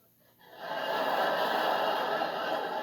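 A voice imitates a Rolls Royce go-kart engine warming up, a steady rough breathy roar that swells in after a brief pause and holds loud without words.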